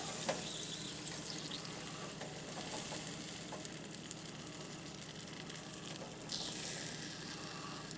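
Omelette eggs frying in a pan, a steady quiet hiss of sizzling with faint scattered pops and light scraping as the eggs are moved around, continuous throughout, no voices.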